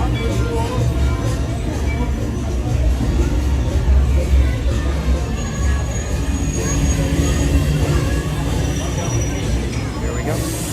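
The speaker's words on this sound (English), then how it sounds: "Here comes our train." A train pulls into a station at Disney's Hollywood Studios, its steady low rumble and faint wheel squeal running throughout amid crowd murmur and nearby voices.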